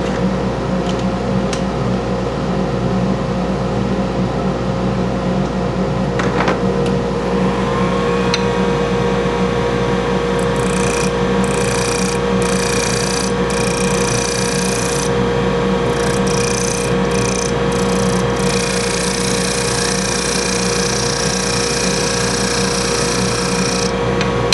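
A woodturning lathe runs at about 260 while a wedding ring is turned, giving a steady close mechanical drone with a constant tonal hum, overlaid by intermittent scraping of a carbide tool against the spinning piece.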